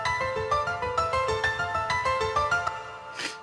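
A Nexus Grand piano preset plays a steady rhythmic pattern of repeated chords and melody notes, clear and close with no voices, ending with a short swish.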